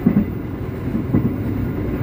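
Airlangga passenger train arriving at Brebes station, a steady low rumble and rolling clatter of railway cars close by, with no voices over it.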